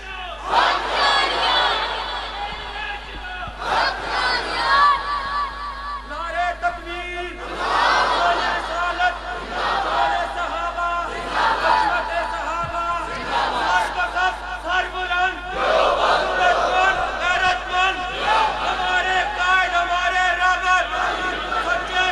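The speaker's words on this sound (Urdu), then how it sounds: "ماشاءاللہ خلافت راشدہ پر نعرے تو لگ رہے ہیں" Crowd at an Ashab-e-Mustafa religious conference in Dheedwal, Chakwal, raising loud chanted slogans in repeated surging bursts, many voices shouting together with a rhythmic call-and-response feel.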